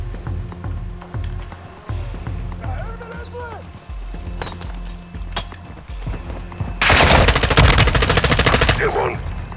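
Video game gunfire from Call of Duty: Modern Warfare II: scattered shots and clatter under shouted talk, then a loud sustained burst of automatic fire near the end.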